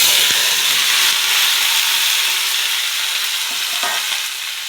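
Raw green tomatoes and green chillies frying in hot oil in a kadai for chutney, a steady loud sizzle and hiss with a few faint stirring clinks, no talking.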